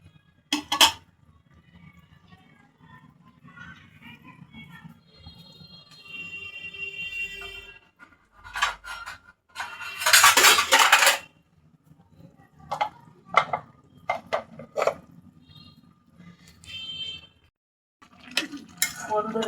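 Bottle gourd is stirred in a pot with sparse metal clanks and scrapes between quiet pauses, plus a short ringing tone and one loud hissing burst midway.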